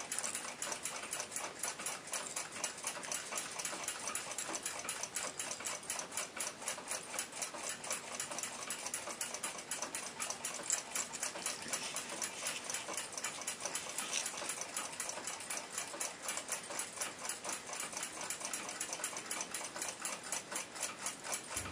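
A restored Waltham 7 jewel pocket watch ticks close up, fast and perfectly even, with a quiet, steady beat that runs the whole time and no talking.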